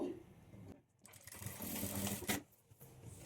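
A sewing machine stitches a blouse in a steady, close mechanical whir, briefly stopping and then running again in a longer burst before pausing once more.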